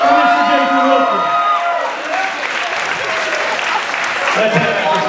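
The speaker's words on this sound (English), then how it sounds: "Give me a round of applause for Mr. Jason Wilson." Audience applause for an election official at a Delaware pro wrestling event, a steady roar of clapping and crowd noise with a ring announcer's amplified voice talking over it throughout.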